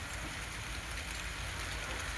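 Light rain falls outdoors under a heavily overcast sky, a faint, even patter and hiss that holds steady throughout with no voices.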